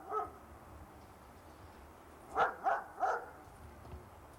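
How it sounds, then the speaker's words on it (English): A dog plays with a ball out in the snow, letting out a short yip followed a couple of seconds later by three quick barks, fairly faint against a quiet outdoor background. "there's Chewy out there playing in the snow, being doggy"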